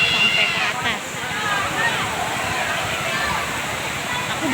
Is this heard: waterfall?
yes